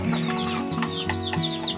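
Shamo chickens in a backyard cluck repeatedly and close by at feeding time, a busy overlapping run of short throaty calls from several birds with no voices.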